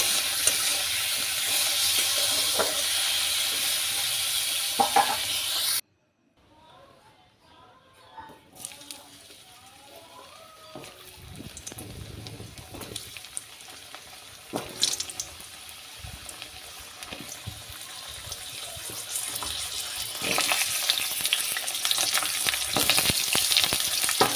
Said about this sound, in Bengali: এবার সাজিনের ডাটাগুলো একটু করে ভালো করে একটু ভেজে নেব